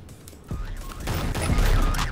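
Gunfire in the multiplayer VR game Bonelab, a dense burst of rapid shots that builds and stays loud and close for the rest of the moment.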